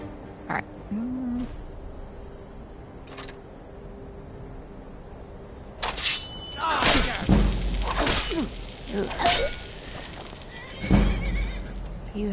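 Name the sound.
horse neighing in the video game Skyrim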